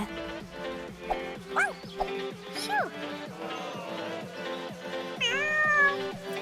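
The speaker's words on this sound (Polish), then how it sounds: "O, słodki kotek." A cat meows several times, rising and falling, over a bed of light music.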